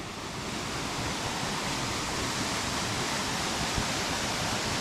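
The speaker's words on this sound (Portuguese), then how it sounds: "Chegamos na Cachoeira do Periquito." Cachoeira do Periquito waterfall in Presidente Figueiredo, Amazonas, gives a continuous broad rushing roar of falling water, steady and moderately distant with no voices over it.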